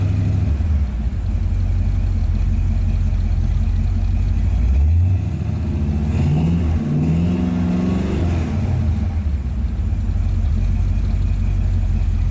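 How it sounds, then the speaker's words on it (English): A 1939 custom Ford's engine idles with a steady rumble, then revs up and settles back several times as the throttle is blipped, heard up close and alone. "We rev it up a little bit."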